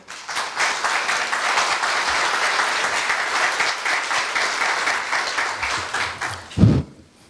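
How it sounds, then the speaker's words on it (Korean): An audience gives sustained, even applause at a staff retirement ceremony, a dense crowd of clapping that swells quickly, holds steady for several seconds, then fades out with a brief thump near the end. "이석형 부장님을 큰 박수로 맞이하여 주십시오."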